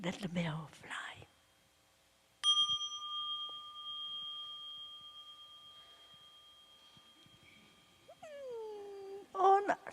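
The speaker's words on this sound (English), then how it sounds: "Let the bell fly." A meditation bell at a retreat is struck once and rings with a long, clear sustained tone that slowly fades, with soft whispered voices just before the strike and faint voices again near the end.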